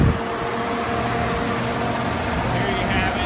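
A 1992 Jeep Cherokee's 4.0 liter inline six engine idles steadily outdoors, a constant low rumble with light wind noise and no talk.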